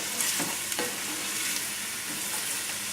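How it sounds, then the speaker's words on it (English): Vegetables sweating in a pot for chicken and rice soup, stirred continuously: a steady soft sizzle with occasional scraping strokes of the spoon, close and fairly quiet, no voices. "so just keep stirring it, mixing it for about 5 minutes"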